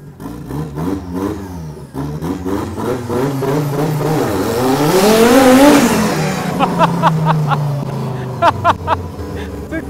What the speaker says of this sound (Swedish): Traktor! Galet ju! Hör du vilken fantastisk maskin?